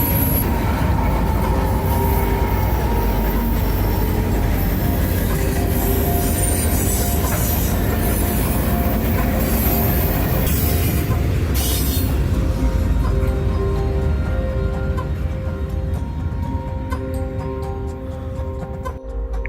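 Freight train rolling past with a DPU locomotive, loud continuous rumble of wagons with squealing wheels and rhythmic clatter, easing slightly toward the end.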